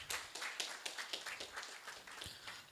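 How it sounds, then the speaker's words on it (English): Scattered clapping from a modest crowd as speakers leave the podium at a refugee response programme session, uneven individual claps quiet and somewhat distant. "Let's give them a round of applause as they leave the podium"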